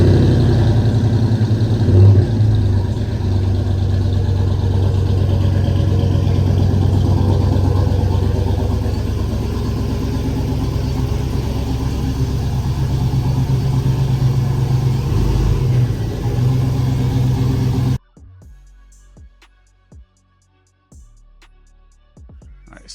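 A truck with a new 5.3 V8 long block revs hard on a chassis dyno, a loud sustained engine roar for most of the run before cutting off abruptly to faint clatter and near silence.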